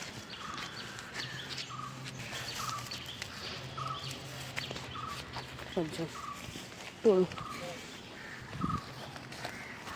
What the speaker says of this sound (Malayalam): കുറേ കിളികളെ ഒച്ചപ്പാടും ജന്തുക്കളെ ഒച്ചപ്പാടൊക്കെയാണ് കേൾക്കുന്നത്